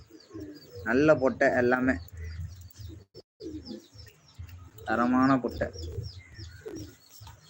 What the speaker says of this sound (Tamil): இந்த புறா காட்டு புறா